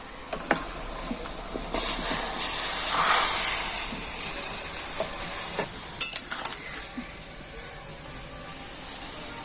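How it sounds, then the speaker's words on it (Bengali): Chopped tomatoes drop into a pot of hot boiling water, giving a steady close hiss and sizzle with a few bright clinks and splashes. "এখন আমি এই কেটে নেওয়া টমেটোগুলো জলের মধ্যে দিয়ে দেব"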